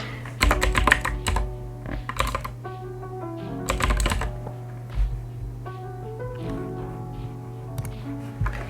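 Computer keyboard typing in clustered bursts of rapid key presses with short pauses between, close and fairly loud over a steady low hum, no talking.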